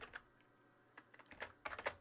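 Computer keyboard typing, a quick run of crisp, close keystroke clicks that come in uneven bursts with short pauses between them.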